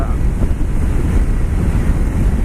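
Steady wind buffeting the microphone while riding a Kawasaki Ninja 300 motorcycle, a continuous low roaring rumble that fills the whole stretch with no speech.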